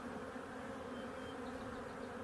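Honeybees buzz steadily throughout an open hive during an inspection, forming a dense continuous drone, faint overall but with no talk over it.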